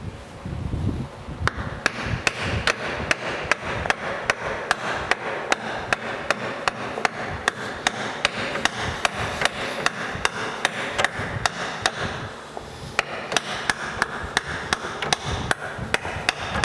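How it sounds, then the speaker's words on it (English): Hammer driving a block of wood against the carriage of a LeBlond lathe during disassembly, dozens of loud sharp wooden knocks in rapid steady rhythm, close up, with a short pause near the start and another around thirteen seconds. "So I'm going to take a block of wood here and a hammer."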